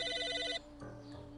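A telephone rings in the video game Psychonauts, a bright electronic ring of rapid repeated pulses lasting about half a second, then cutting off and leaving a quieter tonal hum behind.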